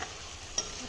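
Potatoes and green chillies being stirred and fried with goat mutton in a pan, a soft steady sizzle with a brief scrape of the spoon partway through, close and quiet, no voices.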